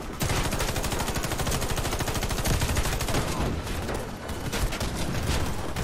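Dense, continuous automatic gunfire from the video game Warface, with rapid repeated shots rattling loudly and without pause for several seconds.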